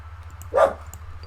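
A single short dog bark from the video game Inscryption, brief and clear over a low background hum.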